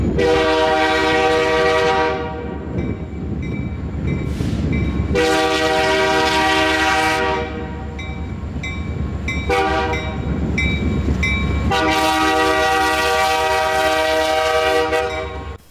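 A loud horn from a former Burlington Northern and Norfolk Southern diesel locomotive blares in three long blasts over the heavy rumble of a passing Reading and Northern freight train, with rail clatter between the blasts.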